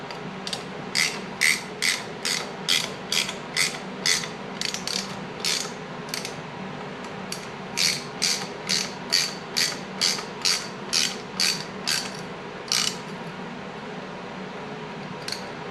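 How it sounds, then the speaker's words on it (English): A hand ratchet tightens the carburetor studs on a 1979 Harley-Davidson FLH Shovelhead, giving crisp close clicking in quick bursts of several strokes with short pauses, loud and alone. "I'm going to go ahead and tighten these down to the carburetor"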